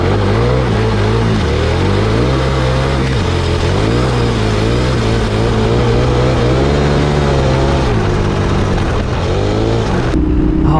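A KTM 1290 Super Adventure motorcycle runs along a narrow mountain-bike single track, its engine loud and close with a continuous rumbling drone. Revs rise and fall repeatedly, with a sharp roll-off near the end.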